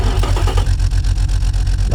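A simulated Toyota 3FE six-cylinder engine with individual throttle bodies and no air filters idles in the Automation game, a loud, lumpy low-pitched rumble pulsing in a steady rapid rhythm throughout, alone without voices.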